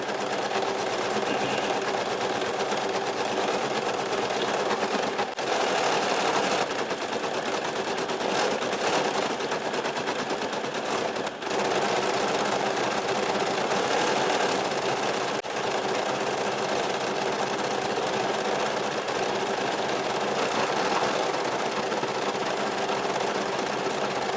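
A Brother SE1900 embroidery machine stitches a Love Bear design onto fabric, giving a steady, close mechanical whir with fast rhythmic needle clatter that runs unbroken throughout, with no voices.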